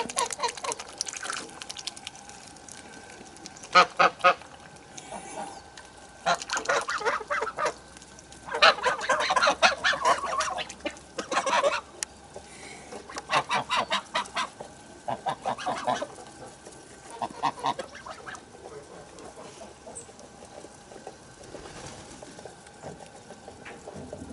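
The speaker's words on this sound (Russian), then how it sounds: "Это гусак из инкубатора шагает." Repeated bursts of honking goose and clucking poultry calls, some near and loud, scattered over a faint background with occasional soft pattering.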